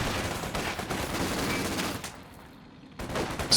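Machine gun suppression fire in the Company of Heroes 2 strategy game: steady loud rattling bursts that drop to a quieter lull for about a second, then kick back in.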